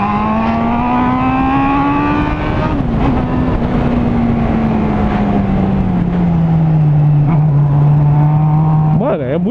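A Honda Hornet motorcycle running without its catalytic converter gives a loud, steady engine roar close by. The pitch sags slowly and then rises again in a sharp rev, with talk mixed in.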